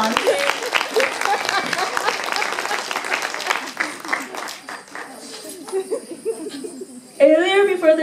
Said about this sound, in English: Didn't they play great? Let's give them a round of applause.